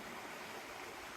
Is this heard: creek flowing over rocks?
yes